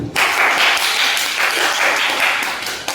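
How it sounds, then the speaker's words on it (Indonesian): A school audience gives applause after a presentation, a thick even roar of many hands clapping that starts abruptly and holds steady for a few seconds, loud and close, with no voices over it. "Mari kita berikan tepuk tangan buat Bu Nuraini"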